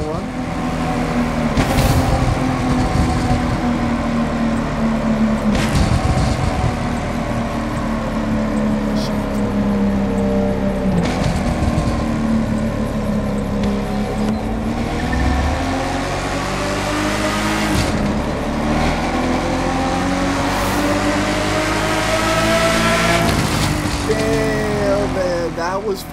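A car engine in The Crew 2, played on a direct drive wheel, revs steadily through the gears during a tunnel run and cruise, with harmonics rising and falling while someone talks over it throughout.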